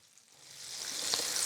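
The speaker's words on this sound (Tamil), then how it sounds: "பூர்ணங்களையும் மாவில் டிப் பண்ணி நம்ம எண்ணெயில் போட்டு ஃப்ரை பண்ணி எடுத்துடலாம்." Batter-dipped sweet bonda drop into hot oil, and a soft hiss swells quickly into a bright, steady sizzle within a second or so.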